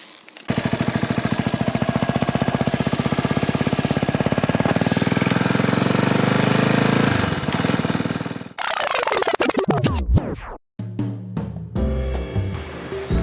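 A two-cylinder motorcycle engine runs loud and close with a fast, even pulsing beat, then the sound turns abrupt and choppy near the end.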